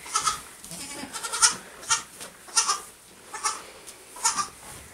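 A mother goat bleats repeatedly just after giving birth to a kid, loud close cries coming every half second or so over a noisy barn background.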